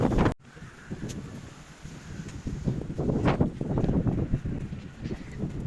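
Steady gusty wind buffets a nearby microphone near the Berlin Wall, rumbling and rustling continuously, with no clear voices.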